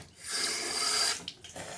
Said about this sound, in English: And then I rinse my mouth with water, with my toothbrush.